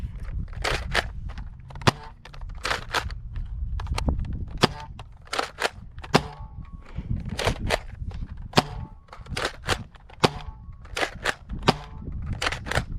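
A Nerf Hyper FUEL-20 toy blaster fires shot after shot outdoors, sharp snappy pops at irregular intervals, close and loud, with footsteps and rustling movement between shots.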